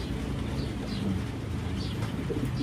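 Soft, low cooing from a pet bird, repeated in a gentle murmur close by, with faint higher chirps now and then and no talking.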